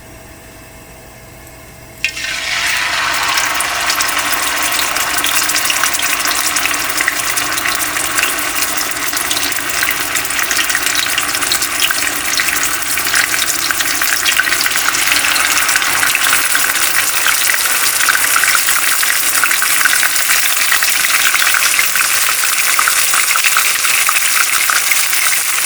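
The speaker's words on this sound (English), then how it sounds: "We are going to start by putting pieces of our chicken on our frying pan to fry it." A loud, steady hiss of chicken pieces frying in oil in a pan erupts after a brief quiet moment and keeps sizzling evenly and close for the rest of the time.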